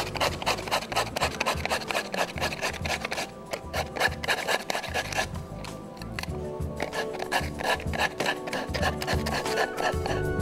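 Sandpaper works the edge of a craft figure in fast, continuous back-and-forth rasping strokes. The sound is close and fairly loud, with a brief lighter pause midway, and no talking.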